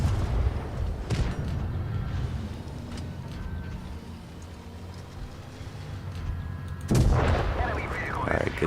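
Tank cannon fire and armor hits in the mobile game World of Tanks Blitz, heavy booms and rumbling impacts with a loud blast near the end, over continuous engine and battle noise.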